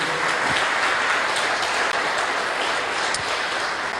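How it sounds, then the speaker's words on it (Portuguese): A church congregation claps together in worship, a thick, continuous wash of applause at steady volume with no talking over it. "Aplauda o Senhor, que Ele merece."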